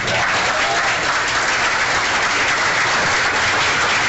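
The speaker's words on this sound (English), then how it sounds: "I want you to clap for the candidates and their families" A crowd at a 2022 election victory party for Gus Bilirakis applauds the candidates and their families in a loud, dense, unbroken wash of clapping lasting several seconds.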